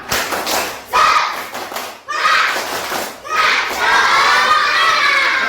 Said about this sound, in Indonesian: coba yang lebih semangat lagi ya, coba tepuk semangat.